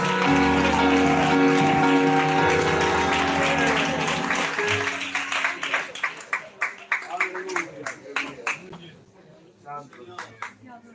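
Music and voices give way to a burst of scattered applause and clapping from a church congregation, thinning out toward the end.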